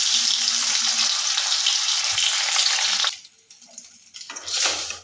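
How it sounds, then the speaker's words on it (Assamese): Eggs half-frying in hot oil in a kadai sizzle loudly and steadily up close for about three seconds, then the sizzle drops away to quieter clatter before a brief renewed hiss. "কেৰাহীত তেল দি দিছোঁ এতিয়া গৰম হৈ গ'ল এতিয়া কণীকেইটা ধুনীয়াকৈ আধা ফ্ৰাই কৰি লওঁ"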